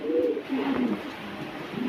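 Indian red-tailed pigeons coo close by in two or three low, rolling phrases that rise and fall, with a soft background hum and no talking.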